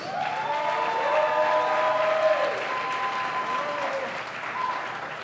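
A political event audience in Milwaukee, Wisconsin claps loudly and steadily, with some cheering mixed into the dense applause.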